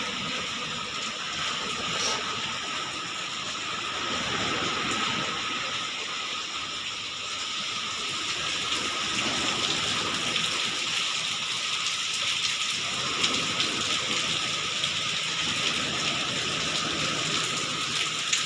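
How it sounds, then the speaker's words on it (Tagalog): Heavy rain pours steadily over a seaside spot in Morong, Bataan, with boats nearby, a dense continuous hiss of drops that stays loud and unbroken, with no talking. "ang lakas pa naman ng ulan"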